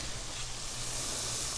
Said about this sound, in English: You can see it's sizzling.